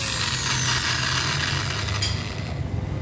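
A power drill boring a hole in a metal cylinder head gasket whirs steadily with a grinding, buzzing tone, close and fairly loud, then eases slightly near the end.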